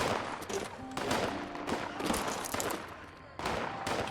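Gunfire during a fight in the post-apocalyptic game Fallout 76: repeated loud shot bursts spaced a second or so apart over a busy background, with no talk.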